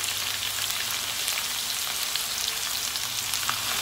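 Finely chopped onions frying in a pan for mutton chops masala, giving a steady, close sizzle with bright crackling spits throughout and no talk.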